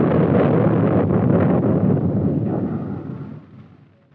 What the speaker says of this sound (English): the U.S. Navy test-fired the ship-to-air TALOS guided missile